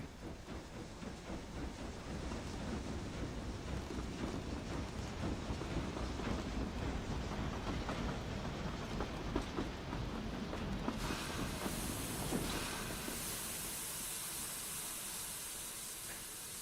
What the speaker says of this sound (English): Well, this train is going the wrong way.